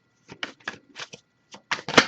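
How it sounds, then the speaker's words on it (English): Tarot cards shuffled by hand during a reading, a run of short papery riffles and flicks in irregular bursts, close and fairly quiet, with no talking. "if I shuffle for a while without anything coming up, I'll just move on to the next deck"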